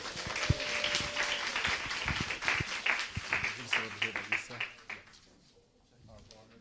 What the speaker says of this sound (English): That was a 3-clap presentation.